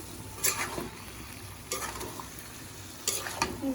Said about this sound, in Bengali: ঢেকে দিয়ে দিয়ে কষাচ্ছি, জল বাড়াইছে এক গাদা।